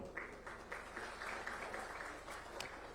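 Hall audience applauding dignitaries on the dais at an official ceremony, a steady, distant-sounding patter of many hands that stays even and fairly faint throughout.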